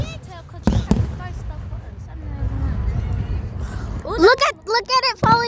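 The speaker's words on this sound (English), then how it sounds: "It's better than the Disneyland fireworks from the beginning of the Disney movie." Fireworks go off with a couple of loud booms early on, then crackle and pop in the distance while excited voices of children and adults talk and shout over the display.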